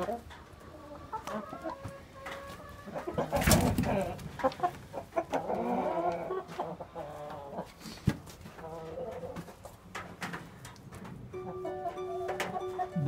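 Laying hens cluck and chatter in a farmyard, several birds at once, with scattered rustling and a loud thump near the start.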